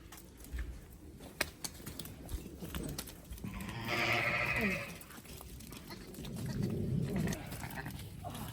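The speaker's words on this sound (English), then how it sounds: "we'll grab the lambs when they get near the field" Sheep and lambs bleat on a farm, one fairly close, drawn-out bleat in the middle and a lower, quieter call later, over faint rustling and handling noises.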